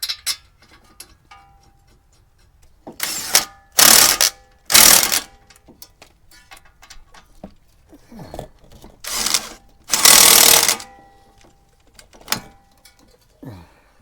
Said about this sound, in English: Put the bolts in and tighten them down.